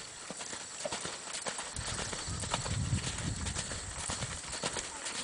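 Hoofbeats of a well-broke sorrel ranch mule cantering along a rail in an arena, a steady rhythmic clip-clop close by that carries on without talk.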